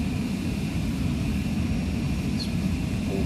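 Simulated airplane engine roaring steadily during takeoff roll in Flight Simulator 2020, a loud continuous low rumble with a faint high whine, heard alone without talk.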